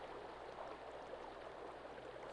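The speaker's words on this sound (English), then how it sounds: "Oh, water. I need water." Steady flowing water from a stream in the video game Sons of the Forest, a soft continuous rush with no breaks, heard alone at low volume.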